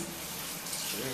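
Tap water runs steadily from a kitchen faucet while food is rinsed during meatloaf preparation, a constant close wash of water with no other sounds.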